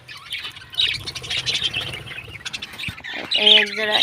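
Pair of yellow pet birds in a colony aviary squawking in bursts, loud near-field calls with a sharper burst toward the end over a busy background of other birds.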